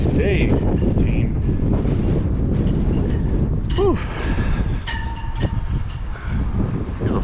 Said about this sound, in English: It is a windy day today, team.